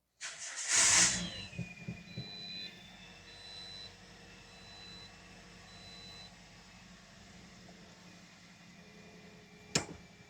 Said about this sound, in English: we are going to start the vehicle up